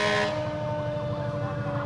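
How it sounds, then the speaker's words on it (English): Fire truck sirens wail steadily at a 1993 heritage festival parade in Moraine, loud and close, with a rising-falling tone over rumbling truck engines. "I don't think you'd have any problem hearing the sirens on these trucks going by here today."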